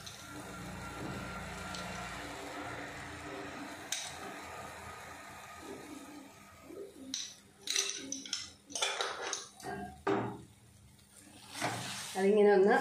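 Spices such as turmeric and chili powder being stirred into paneer butter masala: faint sizzling and soft scraping of a spoon in a pan, then louder clatters and stirring scrapes, with a person talking over it.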